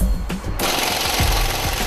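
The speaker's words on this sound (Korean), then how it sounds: "나사를 풀어주는 에어인팩이라는 장비가 전부다." Air impact wrench loosening screws while dismantling a scrapped car at a busy junkyard, giving a loud, close, continuous rattling burr with harsh hammering and a sharp hiss, running the whole time.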